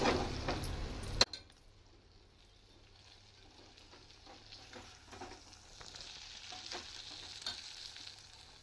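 Okra frying in a pan of oil begins with a brief loud clatter, then a quiet steady sizzle that slowly builds, with faint stirring clicks near the end and no talking.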